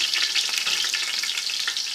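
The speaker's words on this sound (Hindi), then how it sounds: "अब हम इसको थोड़ा सा भूनेंगे" Ginger garlic paste fries loudly among browned onions in a pot for chana pulao, a dense, close, continuous sizzle with no voices.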